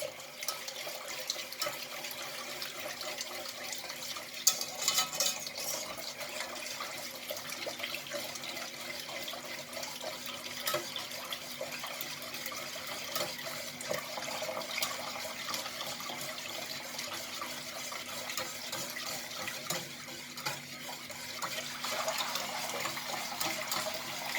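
Warm water pours slowly from a kettle into tarhana soup while it is whisked, a steady splashing trickle with brief clinks, close and continuous with no talk.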